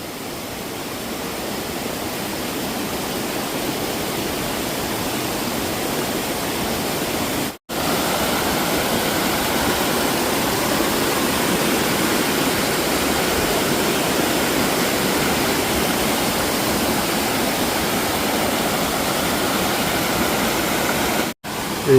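A mountain valley stream in the mossy gorge of Gariwangsan in Jeongseon rushes steadily and loudly nearby, a continuous broadband wash of water that barely changes, broken by two brief dropouts.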